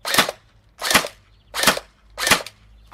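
Tokyo Marui SGR-12 airsoft shotgun firing semi-automatically: four sharp, loud cracks spaced evenly about two-thirds of a second apart, each with a short decay, close by and with no talk.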